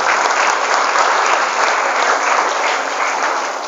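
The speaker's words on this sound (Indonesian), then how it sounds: "Tepuk tangan untuk kita semuanya." Loud, sustained applause from an audience at an Islamic boarding school motivational talk, dense clapping that continues steadily throughout and eases off slightly toward the end.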